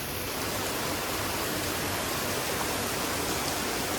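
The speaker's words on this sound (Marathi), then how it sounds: "जवळजवळ 3-4 दिवस पाऊस थांबत नाही, कंटिन्यू पाऊस पडतोय" Heavy, continuous monsoon rain blends with a full, rushing stream swollen after days of downpour, a dense broadband wash that holds steady and loud throughout with no voices.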